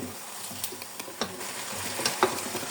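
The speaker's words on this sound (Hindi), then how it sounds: "5 से 6 मिनट हो चुके हैं मुझे इसकी भुनाई करते हुए।" Eggplant and potato frying with masala in a pan, a steady close sizzle with soft scraping and stirring sounds and occasional light clinks of a spatula against the pan.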